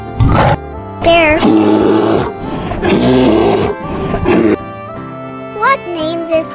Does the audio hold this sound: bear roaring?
yes